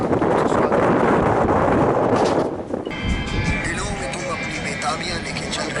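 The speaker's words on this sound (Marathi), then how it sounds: "अप्पर डेकला आल्यानंतर वारा" Strong wind buffets the microphone on the upper deck of a gondola ride in Queenstown as loud rumbling gusts, easing partway through into a softer, steady blow.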